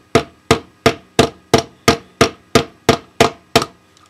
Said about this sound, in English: I would recommend getting a hammer and lightly hammering the end of the ring in place.